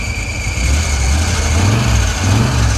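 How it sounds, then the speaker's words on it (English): A 1980 Plymouth Volare engine runs steadily after sitting for years, a low rumbling idle with a rising and falling whine from noisy belts and a high squeal on top, loud and close with no talking. "Oh, the belts are making so much noise."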